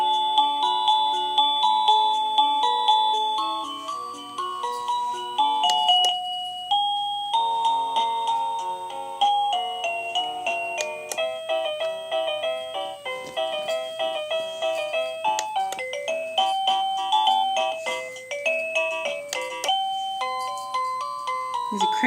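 A Liztek wireless doorbell chime plays a series of bright electronic melodies, clear close tones stepping up and down in a tuned sequence with short pauses between tunes, alone and without talk.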